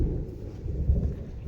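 Thunder rolls during light drizzling rain with lightning flashing overhead. A brief, deep rumble swells and fades over a second or so, fairly faint and distant, with no talking.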